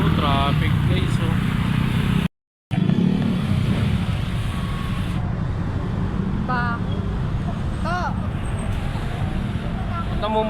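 Road traffic of cars and motorcycles on a busy road in Bulacan, Philippines, a constant loud engine and tyre roar with passing vehicles. People talk over it throughout.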